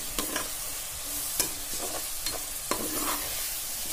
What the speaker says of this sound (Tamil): இப்போ அரைச்சி வச்சிருக்கிற வெங்காயையும் தக்காளி விழுதையும் ஆட் பண்ணி நல்லா வதக்கிக்கலாம்